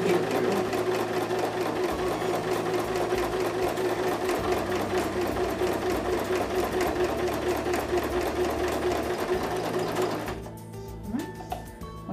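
A sewing machine stitches quilt squares as the foot pedal is pressed, its needle running in a fast, steady mechanical whir close by for about ten seconds before slowing and stopping.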